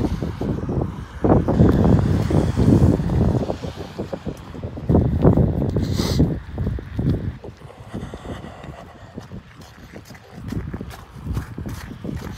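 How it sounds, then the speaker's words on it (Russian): Strong gusts buffet the microphone in rumbling bursts that rise and fall, with some footsteps-like thuds underneath. "Единственное, что ветер, какой-то ветер необъяснимый."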